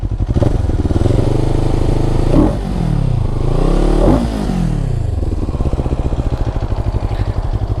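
A 2022 CFMOTO 700CL-X motorcycle engine idles with a gurgling pulse, then is blipped twice in sharp rising and falling revs before settling back to a rhythmic, loud, close idle.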